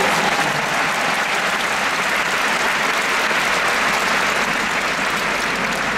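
A large audience at a live concert in Rome bursts into loud, dense applause that holds at an even roar the whole time.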